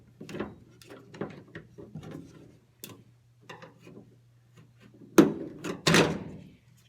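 A plastic tailgate latch bezel on a Chevy Silverado is pried out with a screwdriver or panel tool, giving soft scraping ticks and small clicks that end in two sharper, louder pops as it comes free, all over a steady low hum.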